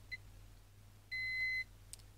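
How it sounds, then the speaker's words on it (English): An IR laser device gives a single steady electronic beep about half a second long during its countdown, preceded by a brief short chirp, against a low hum in a quiet room. "there's an audible beep as it's counting down"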